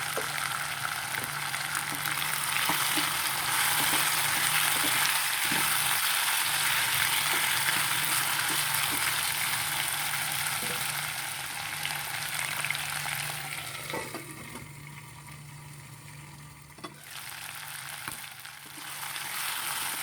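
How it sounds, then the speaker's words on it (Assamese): Chicken fries with kenaf leaves in a pan, a loud, continuous sizzle with occasional stirring scrapes that eases and thins toward the end. "মাংস অলপ বেছিকৈ ভাজিম"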